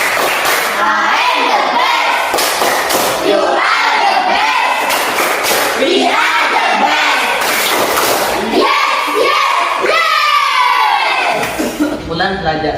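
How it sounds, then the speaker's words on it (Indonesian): A class of fifth-grade children doing the 'tepuk hebat' clapping cheer in a classroom: loud rhythmic clapping with shouted chanting voices and cheering from the whole group. "Tepuk hebat untuk anak kelas 5 dulu, ayo."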